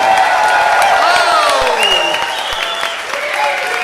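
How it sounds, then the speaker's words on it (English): A comedy podcast crowd in Austin applauds and cheers as comedian Pete Holmes is introduced, a loud sustained roar of clapping with whoops and shouts layered over it. "Give him a big round of applause."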